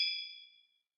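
Glasses of whiskey clink together in a cheers toast: a single bright ring that fades away over less than a second, faint and isolated.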